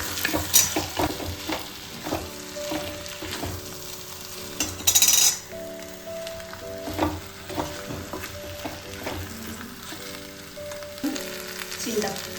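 Taro root frying in a pan sizzles steadily while a spoon scrapes and stirs, giving repeated soft scraping strokes and occasional clinks against the pan, with no talk.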